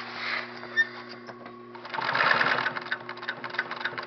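A sewing machine stitches velcro onto a shoulder strap, starting as a soft mechanical hum and rising into a louder, closer buzzing run of stitches with a faint rhythmic clatter.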